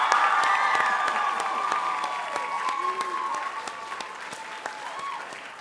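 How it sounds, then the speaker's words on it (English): A board of education meeting audience gives a big round of applause, steady clapping with some cheering and voices rising over it, gradually fading toward the end. "A big round of applause"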